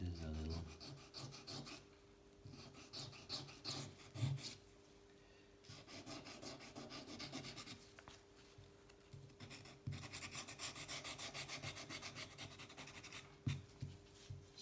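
A bike part for a gravel touring bikepacking build is sanded to put a small chamfer on an edge, heard as close, quiet rasping strokes in short bursts separated by brief pauses.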